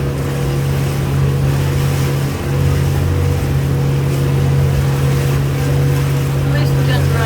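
Steady low engine drone of a boat moving through water at night between Disney Springs and French Quarter/Riverside, constant and close, with a faint wash of water over the hum.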